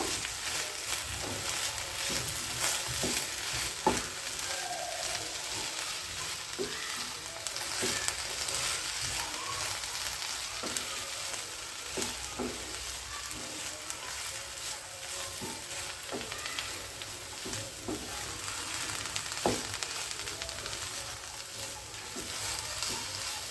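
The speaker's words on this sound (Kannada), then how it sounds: "ಹಸಿ ತೆಂಗಿನ ತುರಿ ಹಾಕಿದ್ವಲ್ಲ ಅದಕ್ಕಾಗಿ ಇದನ್ನ ಚೆನ್ನಾಗಿ ಫ್ರೈ ಮಾಡಬೇಕು" A temple-style masala of fresh grated coconut fries in a pan for a long stretch, giving a steady close sizzle punctuated by frequent stirring and scraping strokes, with no speech.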